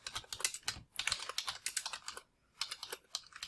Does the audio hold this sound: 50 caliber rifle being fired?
no